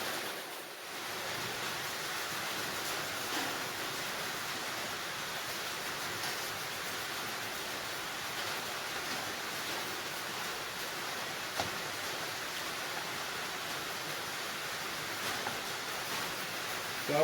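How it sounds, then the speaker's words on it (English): Steady rain pours outside a workshop where a dead 283 Chevy V8 is being cleaned with brake cleaner, a broadband hiss continuing evenly and fairly loud throughout with no talk. "Hopefully that rain's not too loud, or I'm not yelling."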